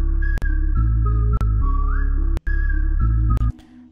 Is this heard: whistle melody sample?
yes